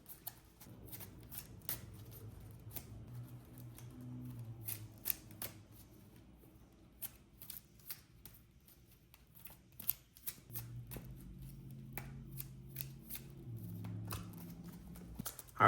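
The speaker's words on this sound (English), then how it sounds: "So I'm going to shuffle the deck up and go over a test hand" A deck of cards being shuffled up close: repeated crisp riffles and soft flapping bursts, with brief pauses and faint murmuring in the background.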